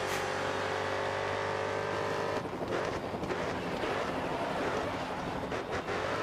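A Chevrolet Camaro race car in GRID Autosport roars at high revs around the Red Bull Ring, its loud sustained engine note dropping with a gear change or lift partway through, then growling on with tire and wind noise.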